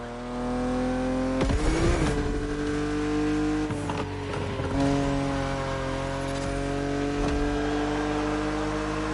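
A BMW Z roadster engine in a racing game, a loud, steady drone that rises and falls as the car accelerates and shifts, with a few brief bumps and scrapes along the way.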